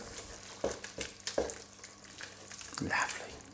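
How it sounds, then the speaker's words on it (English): A spoon stirs tomato puree into Bolognese sauce in a pan, making a few sharp scraping knocks against the pan amid soft sizzling, close and fairly quiet with no talk. "Give it a stir."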